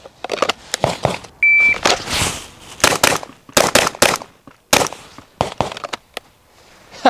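Rapid gunshots ring out in a fast string during target shooting with no reload, loud sharp cracks in irregular quick succession at close range.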